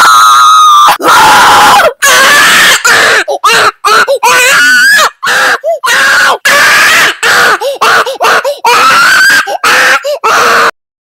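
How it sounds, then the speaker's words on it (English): A Roblox character screams loudly in a long series of shrill, strained bursts separated by brief silences, each cry rising and wavering in pitch. "I'm going to kill you with screaming"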